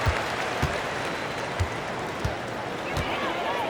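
Arena crowd in NBA 2K24 at a Raptors–Thunder game in the Paycom Center, a steady roar of cheering and applause with periodic thuds like basketball bounces throughout.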